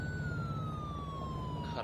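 An emergency vehicle siren in the video game OurLifeRPG, a steady wailing tone that glides slowly downward over a low engine rumble, moderately loud and continuous with no talk.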